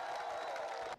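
A crowd of young army recruits claps and cheers in one short, bright burst, steady across the hall before it cuts off abruptly.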